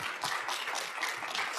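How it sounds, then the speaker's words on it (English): An audience at a psychiatry rounds lecture claps for a guest speaker, a dense, fairly faint patter of many hands applauding continuously. "please join me in giving him a round of applause"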